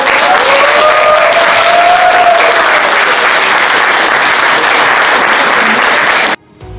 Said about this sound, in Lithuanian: tegul šitą salę nuaidi jūsų garsiomis ovacijomis, plojimais, šūksniais